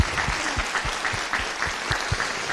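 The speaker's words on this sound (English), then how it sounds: "You can give them a round of applause" Applause for the school teams at a final breaks out at moderate distance, a crowd clapping in a brisk, uneven patter that holds steady for a couple of seconds.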